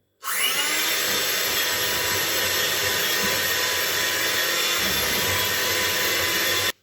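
Electric beater whirring steadily for several seconds, beating ghee and sugar for naan khatai, a loud high-pitched motor whine that starts abruptly and cuts off at the end.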